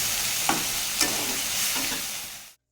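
Greens hiss as they fry in oil with five-spice and dried chili, while a utensil makes clear stirring scrapes against the pan and the sizzle fades out abruptly at the end.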